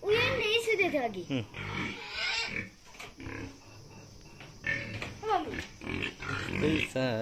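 Pigs grunt and oink on a village farm, the animal noises mixed in with close conversational voices and a child's chatter throughout.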